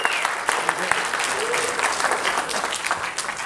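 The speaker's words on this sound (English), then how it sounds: "Please give a gigantic Scarathon round of applause for Mr. Derek M. Cook." A cinema audience at a horror movie marathon breaks into dense, steady applause throughout, with a few scattered claps and voices mixed in.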